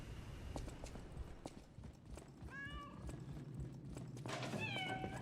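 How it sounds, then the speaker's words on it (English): A cat in the video game Lies of P gives two short meows amid rhythmic clip-clop footsteps, fairly faint, with no talk. "The kitty."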